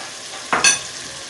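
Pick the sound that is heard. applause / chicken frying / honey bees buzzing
chicken frying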